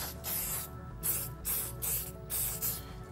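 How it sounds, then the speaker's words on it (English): Spray glue for trim carpentry, a series of short hissing bursts from a nearby can in a quick, uneven rhythm, with no talking. "And now I'll spray my other side."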